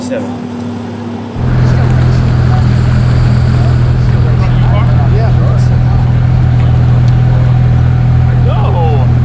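A tuned 850 hp Porsche 911 Turbo at a dragstrip, its engine roaring loud and close in a sustained drone after a sudden start, with voices talking over it.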